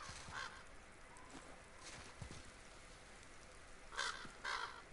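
Crow caws from the God of War video game come through a few times, faint and distant, over a steady wash of ambient game background noise.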